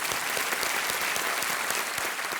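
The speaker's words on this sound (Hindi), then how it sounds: "एक बार फिर हम उनको बधाई देते हैं और अभिनंदन करते हैं तालियों के साथ।" A studio audience at a televised quiz show claps in unison, a brief, dense and even burst of applause with no voices over it.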